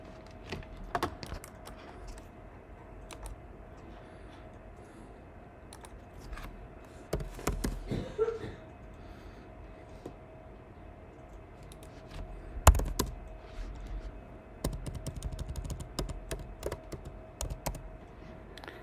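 Keys on a computer keyboard are typed in irregular bursts with scattered clicks and a few louder taps, close and fairly quiet over low room hum, with no talk.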